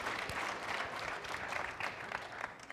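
Audience applause at a film festival opening night, a dense, fairly quiet wash of many hands clapping that holds steady throughout with no talk over it.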